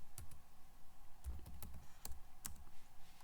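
A password typed on a computer keyboard at an Ubuntu terminal, a handful of quiet, close, irregular key clicks spread over a few seconds, with no talking.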